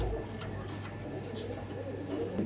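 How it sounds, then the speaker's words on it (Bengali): Low, soft cooing of fancy pigeons at a breeding farm, a faint continuous murmur of calls with no talking. "একেবারে কোয়ালিটিফুল একটা আইস চেকার মাদি কবুতর"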